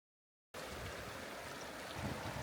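River flowing through a Lake District valley, a steady broadband wash of moving water that starts after half a second of silence and runs close and continuous, swelling slightly near the end.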